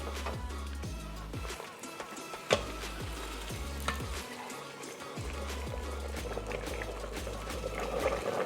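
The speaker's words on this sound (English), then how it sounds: "And I'll add the boiling water to it." Boiling water pours and sizzles into a pot of herbs for Persian ghormeh sabzi stew, with steady hissing bubbling and intermittent stirring knocks, fairly quiet and close.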